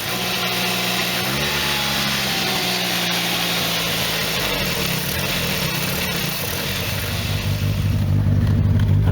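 A Nissan Sunny N13 Pulsar engine idles at around 1500 revs under repair, a steady mechanical hum with low rumbling tones that settle and deepen toward the end, no speech.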